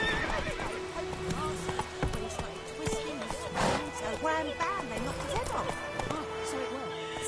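Geralt's horse Roach in The Witcher 3 gallops with steady clip-clop hoofbeats, whinnying and snorting along the way, while game voices and other background sounds carry on throughout.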